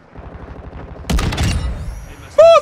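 Gunfire in the Call of Duty video game: a rapid run of soft shots, then a heavier burst and a later sharp blast with ringing, loud and close, with no speech.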